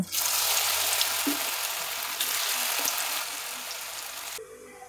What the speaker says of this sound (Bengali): একইভাবে আমি কপিগুলিকেও ভেজে নেব।